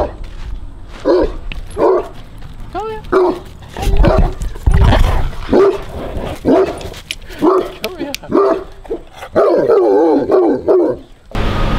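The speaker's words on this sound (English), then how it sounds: "What are you barking at?" A dog barks repeatedly in short, loud bursts, with yips and whimpering mixed in, and a person talks briefly between barks.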